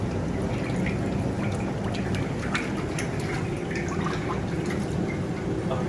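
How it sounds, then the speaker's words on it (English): Cooking oil poured into a warming pot before frying chicken for a large crowd of students, a steady close trickling and dripping wash that runs unbroken for several seconds. "So the pot is getting warmer now. So we'll add some oil."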